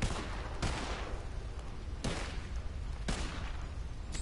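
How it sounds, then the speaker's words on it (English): Gunfire in Red Dead Online, a few loud cracks spaced about a second apart over a dense, noisy wash of background sound. "Just shooting blind now."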